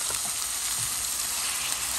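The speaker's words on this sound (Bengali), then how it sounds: "রসুনটা একটু কুচি কুচি করে ভাজি করে নিলাম" Chopped garlic fries in a hot pan with a steady, dense sizzle, close and even throughout with no talk over it.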